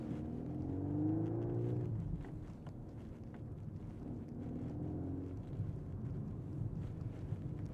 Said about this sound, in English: You can probably hear the exhaust a little bit